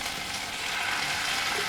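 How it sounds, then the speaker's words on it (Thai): Chinese kale stir-frying in a wok with oyster sauce and fermented soybean paste, a steady loud broadband sizzle that holds without a break. "ผัดคะน้า ใส่น้ำมันหอย"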